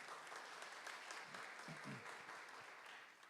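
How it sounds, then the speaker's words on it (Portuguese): A church congregation claps for the Lord during a Sunday evening service, a steady wash of applause that holds for a few seconds with faint voices mixed in. "Vamos aplaudir ao Senhor com alegria?"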